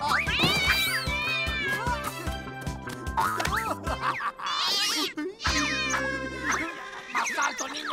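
A cartoon wild cat lets out exaggerated, sliding meows and yowls over busy, loud background music and sound effects from an animated children's show.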